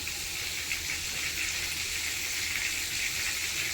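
Cinnamon, cardamom and cloves frying in oil for chicken biryani, an even, constant close sizzle and hiss with no breaks.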